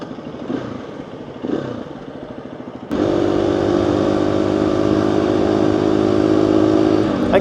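A motorcycle cruising at about 40 mph, a loud steady engine drone with heavy wind rush starting abruptly after a quieter opening, continuous and close.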